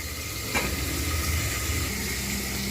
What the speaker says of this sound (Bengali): ঠিক এইভাবে কিন্তু আমি ঢাকনা দিয়ে বেশ কিছুক্ষণ ভেজে নেবো